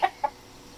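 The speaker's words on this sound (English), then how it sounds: "He is a good looking rooster." A rooster gives two quick, short clucks about a fifth of a second apart, moderately close, against a quiet outdoor background.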